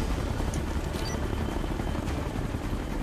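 A helicopter in the co-op video game Ghost Recon Future Soldier gives off a steady, dense rotor rumble that holds at an even loudness for about three seconds, with no voices over it.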